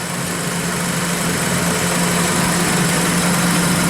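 A car engine with mild rod knock, treated with Lucas Oil Stabilizer, idles at a steady, even rumble with a constant low hum and no audible clatter, heard up close and alone.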